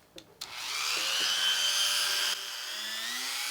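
A Dremel 300 rotary tool spins up after a couple of clicks and cuts with a steady high-pitched whine, close by. Its pitch drops slightly near the end as the load changes.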